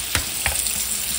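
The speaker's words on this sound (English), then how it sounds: "I'll pour them in here and rinse them." Cold running water splashes and gurgles steadily in a sink as scallops are rinsed, with a couple of wet thuds as they are moved through it, close and loud.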